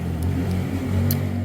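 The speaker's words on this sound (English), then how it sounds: "That's the boy riding his four-wheeler." A four-wheeler ATV engine runs steadily in the background with a continuous low rumble and hum, holding a fairly even level throughout with no talking.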